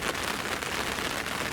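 Rain falls on a fishing bank beside a carp lake in winter, a dense, steady hiss of drops with no pauses and no voices.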